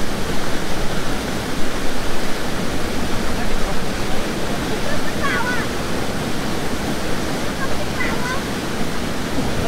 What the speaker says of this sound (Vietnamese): anh em mình đang có mặt ở thác Du Già của huyện Yên Minh, tỉnh Hà Giang